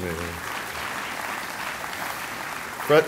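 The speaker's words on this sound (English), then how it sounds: "You can applaud for Fred again." Audience applause at a college Courtyard of Honor ceremony, a steady patter of clapping from a crowd lasting a few seconds, with a brief louder sound at the end.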